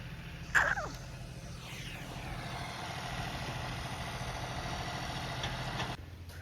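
A farm tractor idles nearby in a potato field, a steady low rumbling throb that holds evenly for several seconds, with a brief sharp click near the start and the engine cutting out near the end.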